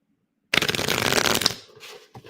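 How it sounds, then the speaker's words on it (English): Playing cards riffle-shuffled close up in one quick, dense burst of about a second, followed by softer handling sounds and a faint tap. "So I'm shuffling the cards now"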